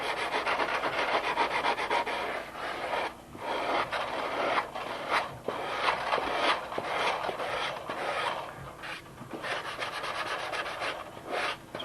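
Abrasive sanding on the balsa wing sheeting of a model Spitfire, a continuous scratchy rubbing in rhythmic back-and-forth strokes, close and alone with no voices.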